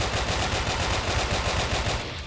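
Rapid sustained machine gun fire in the online shooter game Brick Force, a dense continuous burst of automatic shots for about two seconds, loud and close, no talk.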